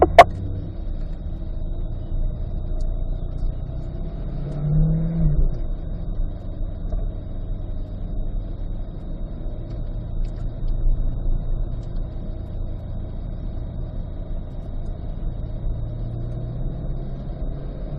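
A car at a performance driving school rolls toward the racetrack, heard from inside as a steady, low engine and road rumble that holds an even level throughout with no clear talk.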